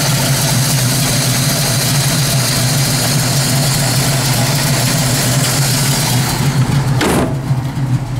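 A 455 V8 in a 1970 Pontiac Firebird with an aluminum radiator and regular fan idles loud and close, a steady deep rumble that dips briefly near the end before carrying on.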